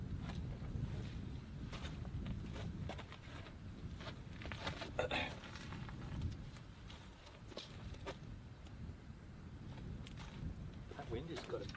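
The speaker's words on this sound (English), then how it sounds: "That wind has got a strange chill to it." Wind blowing outdoors at a campground, a steady low rumbling gust buffeting the microphone, with faint intermittent sounds and distant voices beneath.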